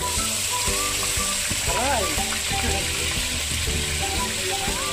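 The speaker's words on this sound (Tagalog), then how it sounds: "igisa ang pork." Pork sautéing in melted butter in a hot pan for coconut-milk adobo sa gata gives a steady, close sizzle with light stirring, and tonal music runs underneath throughout.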